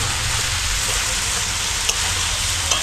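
Leafy greens fry in a hot pan while being stirred, producing a loud, steady, dense sizzle that runs throughout, with a couple of small sharp clicks near the end.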